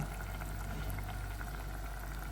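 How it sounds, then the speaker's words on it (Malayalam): Egg curry with roasted coconut, coriander and chili masala simmers in a pan, a soft continuous bubbling and gurgling that stays faint and even, with no voices. "ഒന്ന് രണ്ട് മിനിറ്റ് തിളച്ചോട്ടെ കേട്ടോ"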